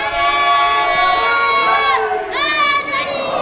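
A congregation at a Muharram majlis in a mosque, Jamia Masjid Mustafa, shouts a religious slogan in unison. It sounds like a loud, sustained chorus of many voices that swells, dips briefly, then rises again.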